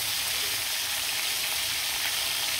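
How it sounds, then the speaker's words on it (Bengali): Chicken pieces sizzle steadily in hot oil in a pan, a continuous even crackling frying sound close by with no voices. "বাকি যে মাংসগুলো আছে সবগুলো আমি একইভাবে ভেজে নিব।"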